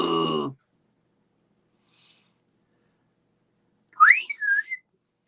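A film monster from the movie Yog, Monster from Space makes a short rising and falling whistle near the end, heard alone after a brief burst of voice at the start and a long stretch of silence.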